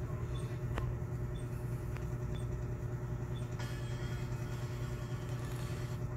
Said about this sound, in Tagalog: tumatalon-talon ang aming sasakyan